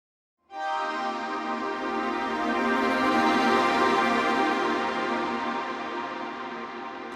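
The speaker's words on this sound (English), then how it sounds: "this is a really sublime kind of mix of col legno tratto and tremolo together" Sampled strings in Kontakt swell in after a brief silence into a shimmering, rustling col legno tratto and tremolo texture with a scratchy wooden edge, sustained and slowly fading.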